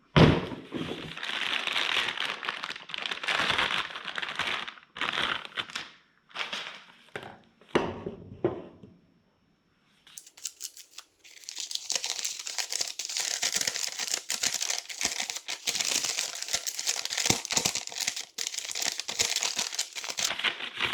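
Paper packaging from a Tanks Inc EFI fuel tank assembly for a Nova is crumpled and crinkled up close in long dense bursts, with a brief pause before a louder stretch of continuous rustling.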